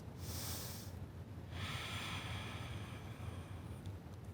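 Deep breaths during a relaxed yoga session: a long airy inhale followed by a slower, breathy exhale, close and soft with no talking.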